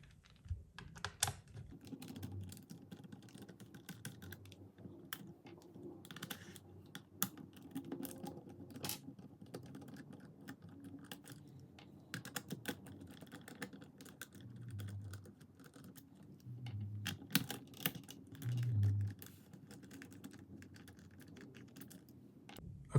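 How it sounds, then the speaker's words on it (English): A small screwdriver removes the screws from a PS4 controller, making quiet scattered clicks and scratches of plastic and metal that come in irregular bursts, close up and faint. "So first step, you gotta take out these 4 screws right here"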